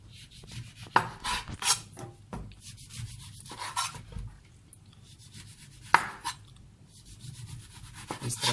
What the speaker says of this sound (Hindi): इस तरह ये छिलका उतार लेना है।